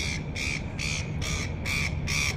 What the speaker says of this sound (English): There's some birds. Welcome to Sydney, the seagulls.